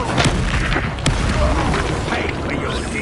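A Confringo blast cast in Hogwarts Legacy on PS4: a couple of sharp explosive booms over dense, busy combat noise, loud and close throughout.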